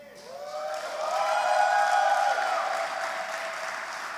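A crowd at a quiz tournament grand final in Lucca applauds the winner, the clapping swelling to a sustained ovation and then tapering slightly, with cheers and whoops mixed in.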